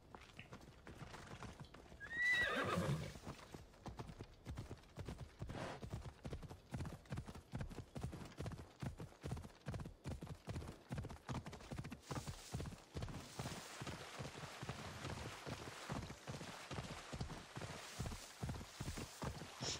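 Horse hooves clip-clop at a steady walking rhythm in the video game Assassin's Creed Odyssey, opening with a whinny, then continuous clear hoofbeats with light rustling behind them.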